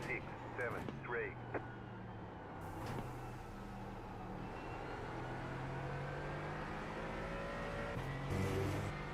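A Mercedes-AMG GT4 race car in iRacing drones steadily at speed with a continuous engine tone and shifting pitch throughout, moderately loud under faint background game sound.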